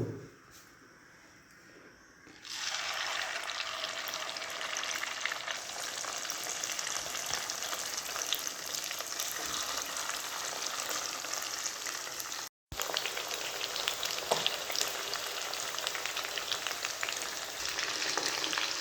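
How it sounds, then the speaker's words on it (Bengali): Chicken drumsticks deep-frying in plenty of hot oil in a kadai, a steady loud crackling sizzle that starts after a quiet moment and runs continuously with a brief dropout. "ড্রামস্টিকগুলো ভেজে নেবো।"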